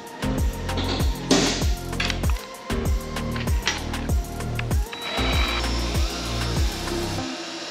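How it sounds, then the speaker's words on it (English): Repeated bursts of a power drill biting into the metal inner guards of a Toyota FJ49, each a short grinding whine that winds down, with clanks between holes, close up. "we're drilling out all these holes into the inner guards"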